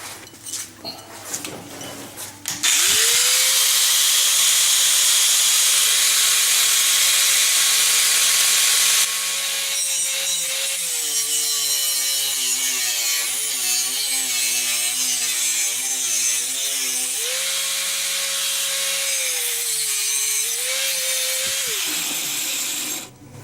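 A blade cuts aluminum bar stock for a friction folder knife, producing a loud, sustained mechanical whine whose pitch sags and wavers under load for about twenty seconds.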